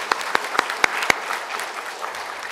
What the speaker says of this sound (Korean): 우리 힘내라고 박수 한번 해주시겠습니다.